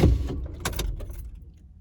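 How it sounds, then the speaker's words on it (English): A car being switched off while keys jangle, a cluster of metallic rattling and clicking at the start and again midway over a low rumble that dies away, close and without talk. "I'm gonna turn my car off."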